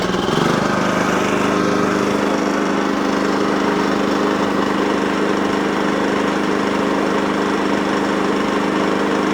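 Small petrol generator restarted after an oil change, running loud and close with an even, continuous engine drone that no longer hunts or surges.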